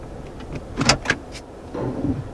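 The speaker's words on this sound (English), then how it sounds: "that little whining noise is the sound of the automatic parking brake activating" A few mechanical clicks, then a brief low electric whine from a Toyota's automatic electronic parking brake motor engaging, quiet and close.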